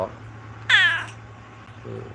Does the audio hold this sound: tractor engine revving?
no